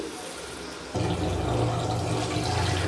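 Mutton cooking water is poured into a biryani pot, a sudden splashing gush of liquid that starts after a brief quiet moment and continues as a steady close pour.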